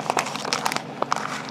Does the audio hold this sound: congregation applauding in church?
no